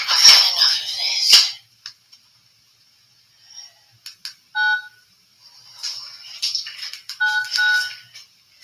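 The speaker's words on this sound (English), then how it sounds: "That's me ringing 999." A telephone keypad gives short tonal beeps as a number is dialled, preceded by loud harsh noise and followed by scattered clicks and tones.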